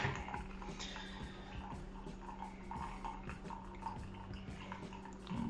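Hot water trickling through a Melitta single-serve pour-over coffee filter into a cup, a faint continuous dribble with soft drips and no one speaking.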